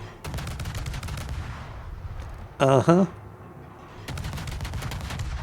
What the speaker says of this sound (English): Yeah, much better shooting at the Yamato here.